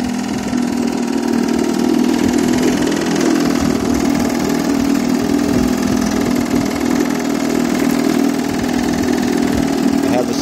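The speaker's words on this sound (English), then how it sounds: "Great little fishing motor." A 1966 Johnson JH21-E 3 hp outboard fishing motor idles steadily with its side cowls removed, a close, loud, even putter that holds constant throughout without revving.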